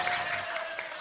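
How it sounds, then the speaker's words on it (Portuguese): Applause from the audience at an amateur football veterans club's 21st anniversary celebration, a brief moderately quiet patter of clapping with a faint voice underneath. "vamos aplaudir também"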